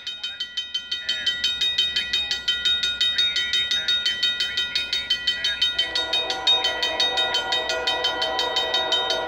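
CP freight train passing at mile 40 on the Galt Subdivision, with a steady, rapid rhythmic clatter of wheels over rail joints and high metallic squeals. Brief voices occur partway through.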